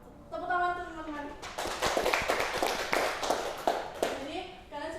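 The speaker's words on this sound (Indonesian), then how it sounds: "Tepuk tangan teman-teman." Classmates clap their hands at a school microteaching session, a steady patter of many hands sustained over several seconds, close and moderately loud, with children's voices heard briefly before it starts.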